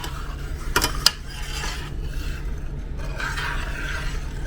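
A utensil stirring egg and butter icing in a pan over gentle heat: two sharp metallic clinks early on, then soft, repeated scraping against the pan.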